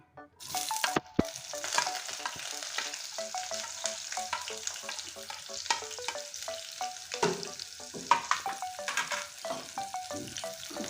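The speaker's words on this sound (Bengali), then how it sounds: "পেঁয়াজটা আমি লাল করে ভেজে নেব" Chopped onion, one large onion, fries in a pan with a close, crackling sizzle and repeated stirring scrapes throughout, with no voices.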